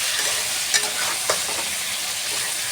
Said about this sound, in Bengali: এরকম দিয়ে একসঙ্গে ভালো করে লাল লাল করে ভেজে নেব।